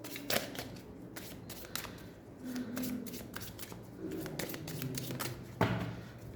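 Playing cards are shuffled and picked from a deck for a tarot-style reading, a close papery riffling and sliding with sharp flicks, steady throughout with no speech.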